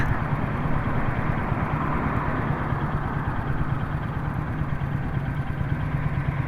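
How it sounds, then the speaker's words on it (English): Deep, steady rumble of a Ford Mustang engine in traffic, heard from a Royal Enfield Hunter 350 motorcycle, with low continuous engine drone and broadband traffic noise throughout. "All I can hear is the rumble of that Mustang up there"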